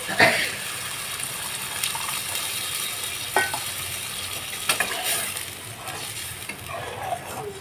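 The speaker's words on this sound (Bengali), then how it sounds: "এবার জল দিয়ে দেব দিয়ে ফুটতে দেব" Gravy with added water, for a mock paneer dish made with potato and rice, bubbles and sizzles softly in a pan, with faint intermittent stirring clinks and low background noise.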